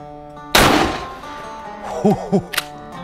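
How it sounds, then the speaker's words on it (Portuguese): A 12-gauge shotgun fires a single loud, sharp blast of SG buckshot into a meat target outdoors, its boom decaying over about half a second, followed by brief faint exclamations. "Vamos ao nosso segundo disparo agora"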